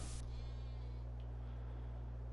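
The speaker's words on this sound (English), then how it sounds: "I love the sheep noises" Sheep bleating in Farming Simulator 22, a brief nasal bleat near the start over a steady low in-game hum, fairly faint and with no talking.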